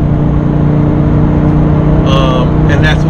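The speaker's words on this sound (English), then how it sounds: "the exhaust valves open up and it gets a lot louder" Lamborghini Gallardo idling with its exhaust valves held open, a loud, deep, steady engine drone close by, with brief higher-pitched sounds near the end.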